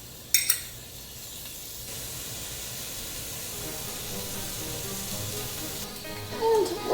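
Beef sizzling in a pot on a medium-high stove for goulash stew, a steady hissing fry that rises after a brief sharp clatter and holds evenly, with a small knock near the end.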